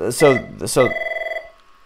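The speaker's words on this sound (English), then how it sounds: "Sorry, my phone is ringing." A phone rings close by and loud: two sharp ring bursts, then a warbling electronic trill that holds for about half a second before it stops.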